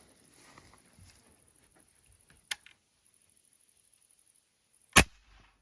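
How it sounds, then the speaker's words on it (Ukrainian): Two sharp, sudden 4.5mm air rifle shots, a quieter one followed a few seconds later by a louder one, with near silence around them. "Швидкість не сподобалась, тому робимо ще один постріл."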